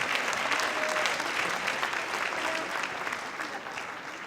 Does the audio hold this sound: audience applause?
yes